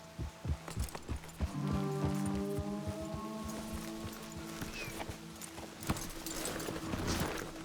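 Steady clip-clop of horse hooves trotting in Red Dead Redemption 2, rhythmic and close, under a sustained musical tone with a few sharper hoof clacks.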